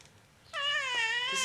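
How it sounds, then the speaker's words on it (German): A cat gives a single clear, drawn-out meow, close and fairly quiet, in an otherwise still indoor setting. "Das ist eine Katze"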